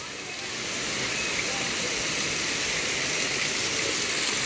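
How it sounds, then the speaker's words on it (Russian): A constant roaring rush of falling water from Banyumala Twin Falls in Bali, loud and close, with no breaks in the steady wash of sound. "И поливает водопад."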